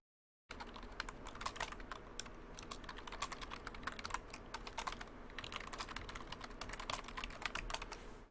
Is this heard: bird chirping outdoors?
no